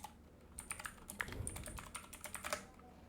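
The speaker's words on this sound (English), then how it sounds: "all you have to need in this form field, you have to type the email address" Quiet, quick clatter of computer keyboard keys as an email address is typed into a form field, a short burst of close, light clicks.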